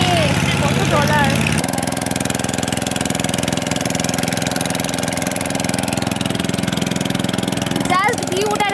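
A motor boat engine drones steadily at mid pitch through a ride off Digha, loud and close, with voices speaking over it near the start and end.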